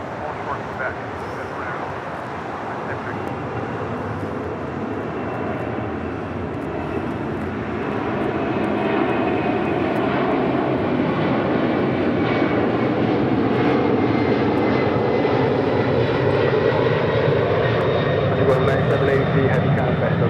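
A jet airliner departing LAX builds into a loud, sustained engine roar that grows stronger partway through and holds steady, with a radio voice faintly heard underneath.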